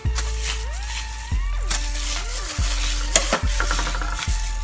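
Thick raspberry-colour plastisol screen-printing ink being stirred in a container, a steady scraping, squelching churn with repeated strokes and a low hum running throughout, close and fairly loud.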